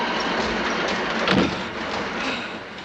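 A train rumbling along rails in a snowy setting, a steady broad roar with a brief louder clank midway, heard alone without talk.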